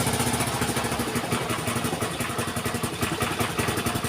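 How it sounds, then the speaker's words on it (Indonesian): A motorcycle engine idles with no battery installed, chugging in a fast, even clattering rhythm close by with a slightly rough mechanical rattle and no one talking. "Motor ini sudah hidup tanpa aki, akinya belum kita pasang."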